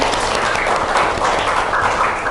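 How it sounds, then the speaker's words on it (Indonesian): A classroom of students applauds at a school teaching assessment, steady dense clapping filling the whole stretch at close range with no break. "Oke, beri tepuk tangan untuk Alisa."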